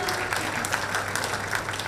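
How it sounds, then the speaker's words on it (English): Audience applauding a women's 50-meter rifle bronze medal winner at a shooting World Cup ceremony, steady sustained clapping from a crowd, even and continuous. "please put your hands together for a round of applause"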